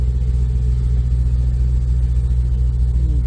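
A 2002 Camaro SS V8 rumbles at low idle while easing down a ramp, a steady, loud, deep engine drone with no voices.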